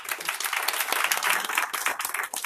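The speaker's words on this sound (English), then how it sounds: "Let's give her a round of applause." Audience at a school district meeting bursts into applause for a speaker, a dense, steady burst of many hands clapping for a couple of seconds, close and fairly loud.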